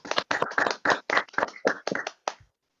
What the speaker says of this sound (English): Sorry, big round of applause for Lesego as he joins us one last time